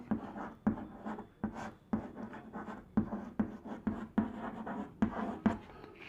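A pen scratches across paper while math is written out during a lesson on linear equations, quiet close strokes in short repeated bursts with tiny taps between words, no speech.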